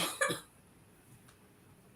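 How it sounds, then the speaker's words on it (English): A girl gives a short burst of coughing, two quick close coughs at the start, then near silence. "cover your mouth when you cough"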